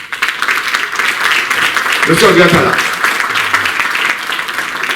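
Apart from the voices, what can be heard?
audience applauding the mayor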